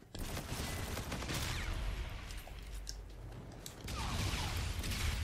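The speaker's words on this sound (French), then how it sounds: "Un fusil mitrailleur." An AK-style assault rifle fires in the Call of Duty: Infinite Warfare video game: loud rapid bursts of automatic gunfire with brief mechanical clatter between volleys, with no talking.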